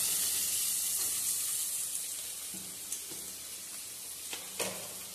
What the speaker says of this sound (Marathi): आपण ते कांदे कढईमध्ये टाकतोय। आता कांदे थोडेसे तांबूस होईपर्यंत परतून घ्यायचे।